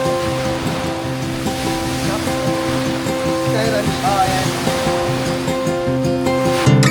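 Steady surf rushes and washes along the shore at a baywalk in Lipa City, Batangas, a continuous wash of waves with a faint hum and tonal noise layered over it.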